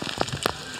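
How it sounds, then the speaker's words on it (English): Heavy cold rain at an outdoor medieval combat championship arena, a steady dense patter with a few sharper spatters, close and continuous over a short stretch. "Oh, it's big, heavy,"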